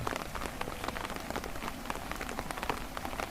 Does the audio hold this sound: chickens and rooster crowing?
no